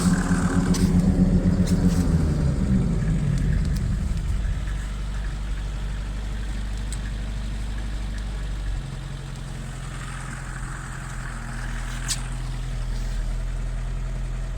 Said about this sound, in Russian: машина греется, стоит